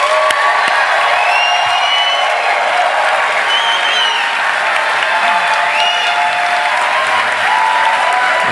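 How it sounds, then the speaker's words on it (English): A comedy show audience breaks into loud, sustained applause and cheering, with dense clapping, whoops and shouts filling the room throughout. "Can you make a ton of noise for Wes Hazard?"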